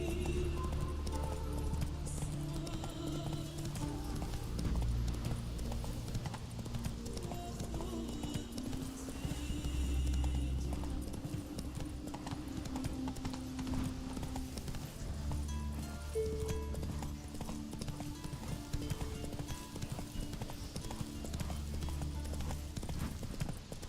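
Horse hooves galloping in the video game The Witcher 3, a continuous rapid clip-clop rhythm running throughout with an occasional whinny, mixed with game background sound.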